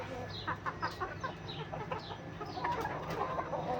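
Silkie chickens cluck close by in a farm or market pen, with repeated soft bursts of clucking and brief calls over a busy background murmur.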